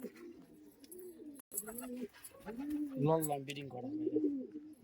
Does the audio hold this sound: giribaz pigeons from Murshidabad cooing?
yes